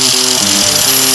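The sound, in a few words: grinding the ends of shiny metal flail parts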